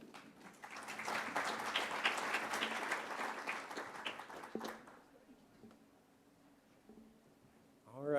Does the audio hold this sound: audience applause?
yes